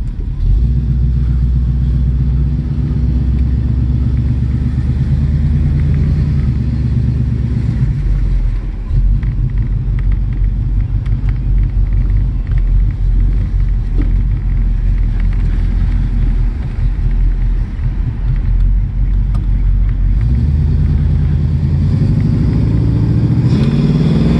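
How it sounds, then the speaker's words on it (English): A 1968 Pontiac Firebird 400 convertible rumbles along the road with a loud, deep V8 drone close by, rising and easing as it shifts and cruises, with no voices. "let's take this baby for a ride. You guys can see it go down the road here."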